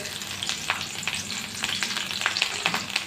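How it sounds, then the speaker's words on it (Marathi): Chilies sizzle and crackle in a hot pan with oil, a steady close frying hiss with sharper pops scattered throughout and occasional stirring, heard alone without talk. "आता यामध्ये ही मिरची घालून घेऊया"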